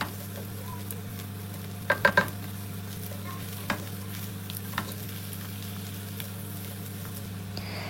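Potatoes frying and being stirred in a pan for chicken biryani: a steady sizzle runs throughout, with a few sharp scrapes and knocks of the spoon clustered near the start and a couple more later.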